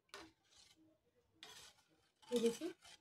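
Water being stirred to mix panipuri pani, heard as a few short swishing, scraping bursts with faint clinks of a spoon against the container, close and fairly quiet, with pauses between strokes.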